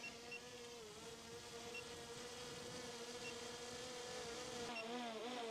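DJI Mini 4 Pro drone motors spinning up for takeoff, a steady high insect-like whine at moderate distance that holds even and shifts pitch near the end, with no talking.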